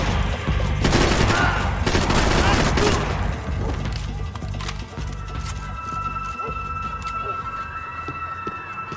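Gunfire in the video game Max Payne 3: a dense, loud burst of rapid shots for the first few seconds, then quieter scattered fire and ambience, with voices mixed in.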